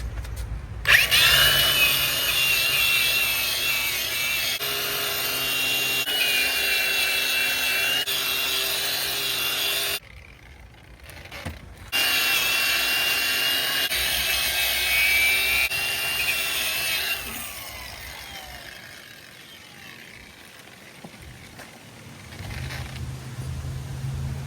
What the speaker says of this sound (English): I'm gonna start wire brushing this one down and try to get some paint on it.